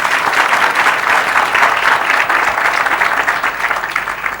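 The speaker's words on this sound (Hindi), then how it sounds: "इस बात पर ताली बजाओ" Sustained applause from a crowd, steady and loud throughout with dense clapping and no pauses.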